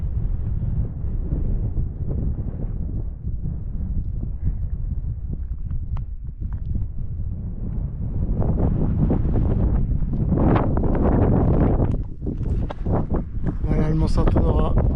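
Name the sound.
wind blowing on a mountain hike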